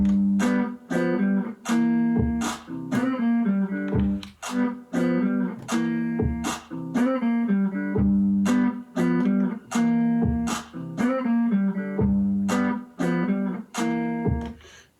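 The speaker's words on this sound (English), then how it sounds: "I created a drum beat around it, and it sounds like this." A steady funky drum groove on a Boss RC-600 loop station, with punchy hits in a repeating pattern alongside a bass line, loud and continuous.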